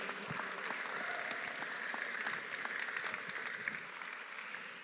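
Crowd applause for state representatives at a Governor Abbott event in Richmond, a dense, steady wash of clapping from many hands held for several seconds, fairly distant and even.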